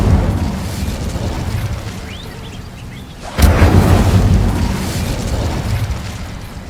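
A fire spell in Hogwarts Legacy ignites with a sudden whoosh and boom at a moonstone site, then roars as a sustained loud burst of flame that slowly fades, with no voices.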